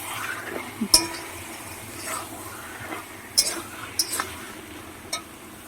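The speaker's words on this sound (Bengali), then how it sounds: "এবার মশলাটাকে আমি ভালো করে কষাবো" A spoon scrapes and clinks against a pan while masala spice paste is stir-fried with a splash of water, giving a few sparse metallic taps over a quiet, low background.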